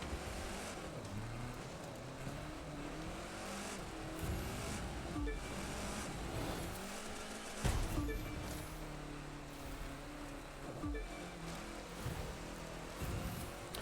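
A rally car drifting in the WRC video game, its engine droning and shifting pitch steadily throughout with occasional bumps and surges, fairly quiet and continuous.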